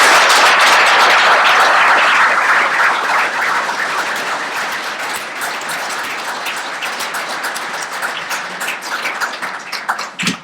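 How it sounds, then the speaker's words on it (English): A town hall audience at a health technology panel gives the panelists a round of applause, loud and dense at first, then gradually thinning into scattered claps before fading out. "Can everybody please give them a round of applause?"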